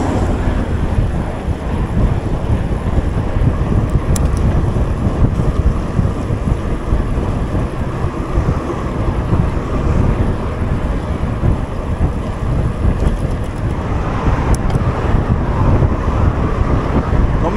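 Strong wind buffets the microphone while riding a mountain bike on a trail alongside a road-cycling group, a loud, continuous low roar that lasts the whole stretch with no talk.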